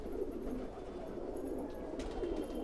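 Siraji pigeons coo softly and continuously in a loft, a low repeated burbling under faint background noise.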